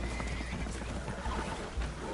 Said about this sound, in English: Horses are spooked